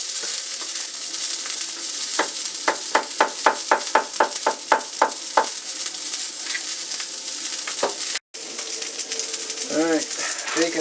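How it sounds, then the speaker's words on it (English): Bacon sizzles in a cast iron pan with a loud, steady crackle, broken midway by a quick run of sharp metallic taps and scrapes, then settling back into constant frying. "bacon's starting to crisp up"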